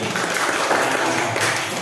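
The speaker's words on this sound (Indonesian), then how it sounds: "tepuk tangan untuk kita semuanya" A class of students in a classroom gives a short burst of steady applause, dense and moderately loud, lasting under two seconds.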